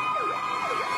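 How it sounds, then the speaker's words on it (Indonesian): A toy fire truck's electronic siren wails in two smooth rising and falling sweeps, loud and close, with no talking over it. "Wow, lihat teman-teman, ada mobil pemadam kebakaran."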